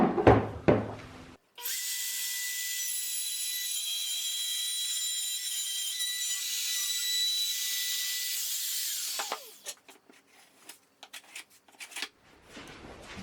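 A router cutting wood to make a T-track fence: a loud, sustained high whine for about eight seconds, bracketed by brief handling clatter and knocks before and after.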